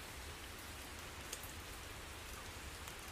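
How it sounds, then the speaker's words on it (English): Heavy rain pours in a horror video game, a dense and steady hiss with a few sharper drop sounds and no voices. "It's raining heavy."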